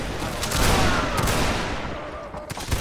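A musket volley bursts out in a multiplayer line-battle video game, a dense, crackling fusillade of many shots that overlap into one long rolling roar and then thin to scattered reports.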